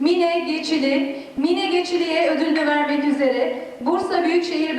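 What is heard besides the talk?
No distinct noise like a dog, phone or traffic.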